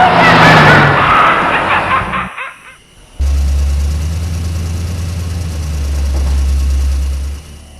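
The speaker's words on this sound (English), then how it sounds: "monster truck" A monster truck engine idles loud and close with a steady low rumble, after a brief gap of near silence that follows an earlier burst of clattering noise.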